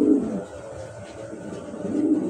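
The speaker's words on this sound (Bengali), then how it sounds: "কবুতর" Racer pigeons coo in low, soft throaty rolls, a steady murmur close by with two fuller swells at the start and end, and no talk over it.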